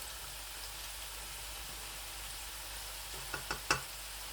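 Arvi (taro root) pieces fry in hot oil in a home kitchen, giving a steady, even sizzle throughout, with a few light knocks or clinks near the end.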